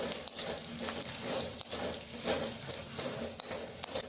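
Gujarati-style batata poha with green chilies and crushed peanuts is stirred in a pan, giving a quiet, continuous sizzle with soft scraping and occasional light clicks of the spoon, close by and without talking.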